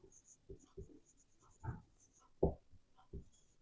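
Chalk writing a sentence on a classroom board during an English grammar lesson, heard as a few soft scratchy strokes and taps in short bursts, close and fairly quiet, with a teacher speaking intermittently between them.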